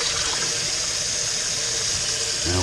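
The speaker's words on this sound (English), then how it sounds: "put this down the sink." Homebrew beer yeast sludge poured from a container down a kitchen sink, a steady close rush of liquid and gurgling draining water lasting a few seconds, with no talking.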